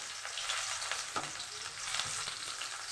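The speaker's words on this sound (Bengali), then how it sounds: "কড়াতে আমি তেল দিয়েছি হালকা একটু পাঁচফোড়ন দিয়েছি" Onions sizzle steadily in hot oil with a light sprinkle of panch phoron in a kadai, close and continuous, with a few soft stirring scrapes partway through and no talking.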